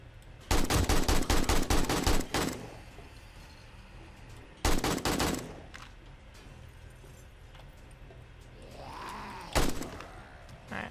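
Shotgun fire in the 7 Days to Die video game, heard as loud bursts of rapid repeated blasts, then a second short volley and one more isolated shot, with quieter game ambience in between.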